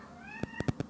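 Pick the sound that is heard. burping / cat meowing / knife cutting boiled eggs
cat meowing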